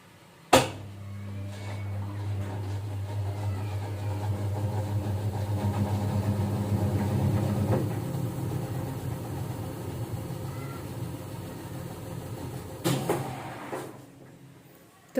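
A Whirlpool 6.5 kg fully automatic top-load washing machine runs an express wash cycle with a steady low motor hum and churning, marked by a sharp click at the start and another knock near the end.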